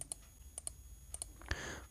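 Keys being typed on a computer keyboard to enter a captcha code, a few light, quick clicks in small pairs spread through the moment with a soft thud near the end, close and quiet, no voices.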